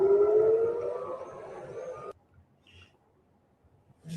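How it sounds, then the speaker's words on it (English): Air raid siren in Tel Aviv sounding a red alert, a loud rising wail over a rumbling background for about two seconds, then cut off into near silence with faint scattered sounds. "Breaking news, red alert, sirens active in Tel Aviv."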